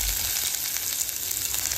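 Chopped onion sizzles steadily in a hot pan over garlic already roasted, a dense, continuous frying hiss with no talk, close and fairly loud throughout.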